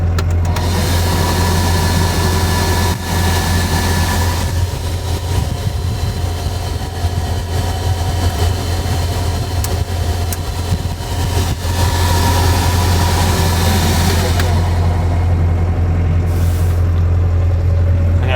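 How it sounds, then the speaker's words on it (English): A Bobcat excavator engine runs at a steady, loud idle while its cab blower motor blows hard, a constant deep hum with a broad rushing whoosh on top that continues unchanged with no talk. "This Bobcat, the blower motor seemed to be blowing a lot harder than any of the John Deere's."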